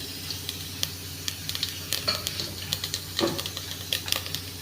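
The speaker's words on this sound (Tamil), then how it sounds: "கடுகு போடலாம்" Mustard seeds splutter in hot oil, scattered sharp pops and crackles at close range over a low continuous sizzle.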